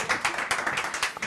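A small studio audience clapping during a broadcast from an ethnological museum, a brief burst of fairly quick, rhythmic claps from a few people, close and clear with no talking.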